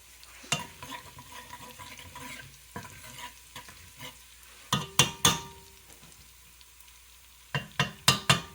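Garlic sizzles in a frying pan for a mock she-crab bisque, a steady soft hiss broken by sharp clinks and scrapes of a utensil stirring against the pan, with bursts of louder knocks near the end.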